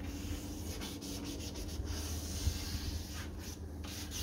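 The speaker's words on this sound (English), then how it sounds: "Now I'm going to start giving the bottom a bit of a sand." Car headlight lens being sanded by hand, giving a steady, close, soft rubbing scrape with faint rhythmic strokes and no talking.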